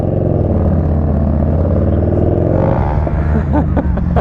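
A large Yamaha Bolt motorcycle engine with an aftermarket exhaust idles with a deep, steady rumble close by, then blips its throttle toward the end.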